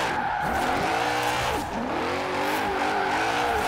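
A BMW i8 hybrid drifts in Forza Horizon 4. The engine note rises and falls in repeated revving sweeps over a steady tire squeal, loud and close throughout.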